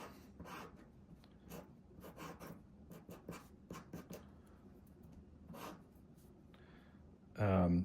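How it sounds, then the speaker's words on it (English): Pencil sketching on paper, a series of short, quiet scratching strokes in uneven bursts, close and faint, ending with a louder rustle of paper. "Let me just draw the window first."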